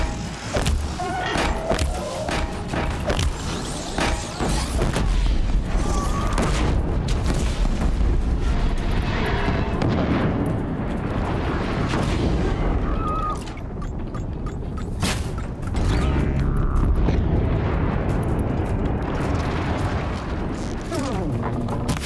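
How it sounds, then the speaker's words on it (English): Sticky bombs explode in the action game Horizon Zero Dawn, heavy booming blasts repeating amid loud combat noise and a game soundtrack, with someone talking over parts of it. "we're gonna do sticky bombs"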